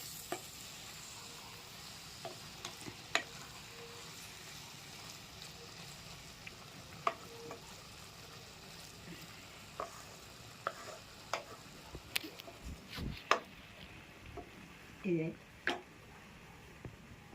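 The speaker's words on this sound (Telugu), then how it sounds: "ఇట్లా కొత్తిమీర వేసుకొని ఒకసారి ఇట్లా కలిపి" Egg curry with flat beans and coriander stirred in a pan, a faint low simmer with scattered spoon clicks and scrapes, louder clatter near the end.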